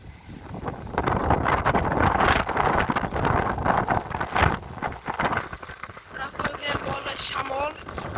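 Strong wind buffets the microphone near a stream in gusty, roaring bursts that last throughout, loud and close, with faint background sounds underneath.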